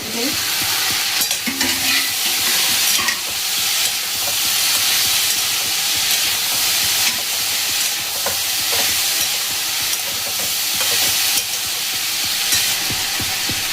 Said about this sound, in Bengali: এবার এগুলোকে আমি একটু ভাজবো